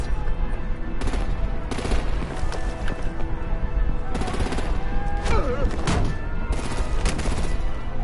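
Video game gunfire and artillery in Batman The Enemy Within: continuous loud automatic fire mixed with booms and crashes, with a few brief louder bursts throughout.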